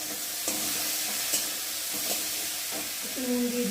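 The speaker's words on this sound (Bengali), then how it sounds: "এবার আমি টমেটো কুচিগুলো দিয়ে দেবো।" Chopped tomatoes sizzle in a hot pan with a steady hiss, while a utensil scrapes and stirs them in irregular strokes, close and fairly loud with no talk.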